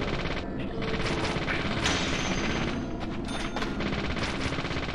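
Rapid gunfire from the video game Deadly Premonition, dense bursts of shots packed tightly together and loud throughout, with no clear gaps between them.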